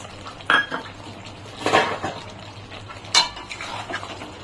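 A spoon clatters and scrapes against a metal pot in a few separate bursts while cashew and melon-seed paste is stirred into simmering chicken, with a faint wet background between the strokes.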